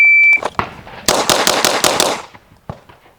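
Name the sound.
Staccato P pistol gunshots at a shooting range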